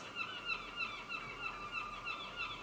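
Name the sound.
seagulls calling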